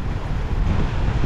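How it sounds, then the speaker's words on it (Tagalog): Strong wind buffets the microphone at Weymouth Beach, New Zealand, with heavy surf rolling underneath, a steady loud roar filling the whole moment with no voices. "Natapat tayo ng malakas ang alon, malakas ang hangin ngayong araw na to."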